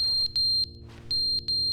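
Short, high electronic chirps from a fire alarm with a dying low battery in The Stanley Parable, sounding in a quick irregular cluster, pausing briefly, then chirping again several times at close range.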